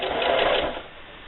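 A sewing machine runs steadily for about a second, stitching a few locking stitches back and forth over a seam on a fabric can koozie, then fades as it slows to a stop.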